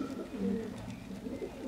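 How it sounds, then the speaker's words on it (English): Young half fantail, half racing pigeons coo in low, soft repeated calls, close by and fairly quiet. "Then we've got two more of the half fantail, sorry, half racing pigeon babies."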